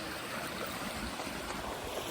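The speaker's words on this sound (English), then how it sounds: "And water is flowing." Water flows in a stream with a soft, continuous outdoor wash of trickling and rushing, moderately quiet and unbroken, no voices.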